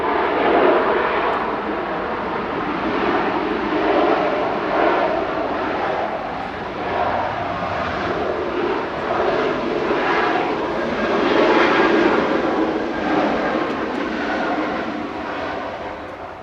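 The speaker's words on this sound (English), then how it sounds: "Ryanair coming in behind, just touching down from Palma de Mallorca, flight 3442, EIEVH 737-800" A Ryanair Boeing 737-800 from Palma de Mallorca touching down at Manchester Airport close by, a loud sustained jet roar that pulses gently and rises again near the end, no voices present.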